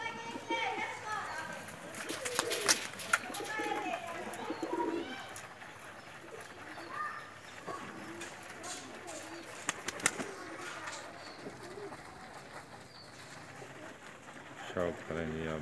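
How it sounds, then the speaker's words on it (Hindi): A Rampuri breeder pair of pigeons, a male with a female, coo in a loft in Pakistan, soft repeated coos under someone talking, with other birds and some background clatter. "ये हमारा रामपुरी जोड़ कबूतर है जी, इसका शौक़ करें।"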